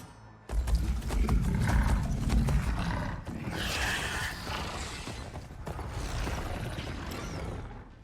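Mechanical machine creatures carry riders in a Horizon Forbidden West battle, letting out loud creaking, grinding roars with metallic ratcheting. The noise stays close and dense and swells again partway through.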